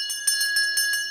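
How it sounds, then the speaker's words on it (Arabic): A bell rings steadily with bright, sustained metallic tones, struck repeatedly in a regular pulse about every third of a second, fairly loud and alone with no talk. "صوت الجرس؟ أنا بس بدي حدا يفهمني من وين عم يجي هالصوت."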